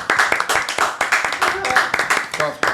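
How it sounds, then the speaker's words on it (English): Several people clap for guests arriving at an interview, the claps sharp and fairly close, in uneven bursts with a few individual hand strikes standing out, while voices talk and whoop over the top. "Clap it up for Home Movies. Clap it up real quick."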